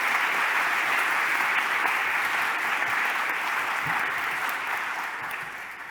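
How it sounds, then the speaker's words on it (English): Full applause from a conference hall audience for the panelists of an ESA-NASA session, dense and even clapping that holds steady and then slowly fades toward the end. "maybe a big applause for everyone."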